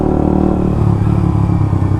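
A Suzuki GSX-R motorcycle engine revs loud and close, with a rough pulsing exhaust note and no talk over it.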